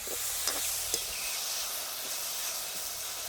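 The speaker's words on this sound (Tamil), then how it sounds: "நாங்கள் வறுத்து தான் எடுக்க போகிறோம்." Food, including chilies, frying in a pan during a village dinner cook, giving a steady, low, hissing sizzle that runs unbroken with a couple of faint pops.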